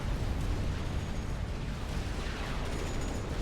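A nuclear missile strike in the real-time strategy game Supreme Commander: Forged Alliance, heard as a steady, dense low rumble of blast that rolls on without a break for the whole stretch, with no talk over it.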